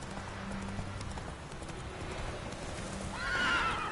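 In The Witcher 3, the horse Roach's hooves clip-clop steadily before a loud, high, shaky whinny rises near the end, all close and clear with no talking.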